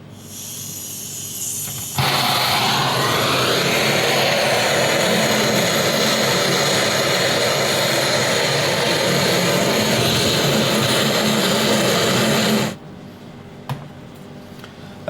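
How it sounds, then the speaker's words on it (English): A handheld gas torch roars loudly and steadily for about ten seconds as it caramelises a sugar topping on a burnt cream, then cuts off sharply, leaving a quiet kitchen. "sprinkle it with sugar and then caramelise at the top with the help of the gas gun."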